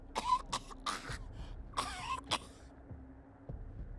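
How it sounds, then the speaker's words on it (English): A woman in the video game Wasteland 3 coughs in a rough fit of several harsh bursts and throat clearing, then quieter coughs trail off. "A fit of coughing takes her"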